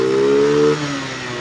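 A Rusi Venus scooter engine runs close by with a steady buzzing idle that drops in pitch partway through and settles into a lower, rougher putter.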